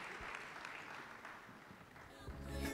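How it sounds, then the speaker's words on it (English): Audience applause for panelists closing a ministerial and executive policy dialogue, a sustained wash of moderate clapping that swells near the end with some low rumble and murmuring voices. "let's give a big round of applause to our panelists"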